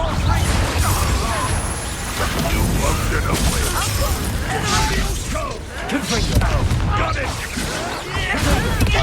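Confringo fire spell blasts in Hogwarts Legacy combat, loud crashing and mechanical bursts layered with battle noise and a shouted voice throughout.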